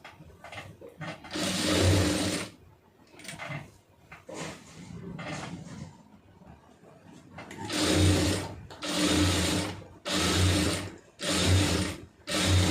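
A sewing machine stitches a puff sleeve in repeated bursts of close, steady whirring, with brief pauses between the runs.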